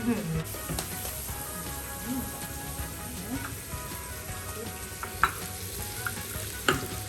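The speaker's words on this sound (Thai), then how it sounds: "แล้วก็ใส่หน้าใหม่ ขย่าไข่ให้มันแตกก่อน" An egg frying in a pan gives a steady, close sizzle and crackle throughout, with a few sharper pops near the end and faint talk in the background.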